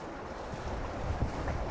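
Floodwater rushing through a street turned into a river, a steady broadband wash of flowing water with low turbulent rumbles, close and continuous without pause.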